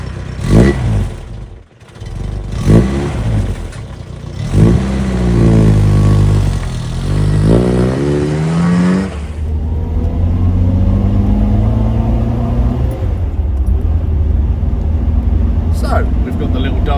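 A 1980 Triumph Dolomite 1300 car drives along a road with its 1300 engine working, the note repeatedly climbing and falling through the gears. A voice talks over the engine for part of it, and a steady lower drone carries on afterward.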